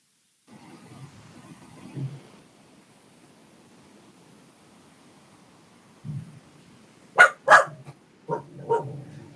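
A pet dog indoors barks several times toward the end, a few sharp, loud close barks after a long quiet stretch with faint, soft sounds.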